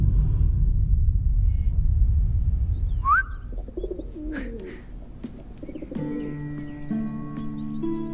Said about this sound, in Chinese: 我当然是来看我心爱的鸽子了。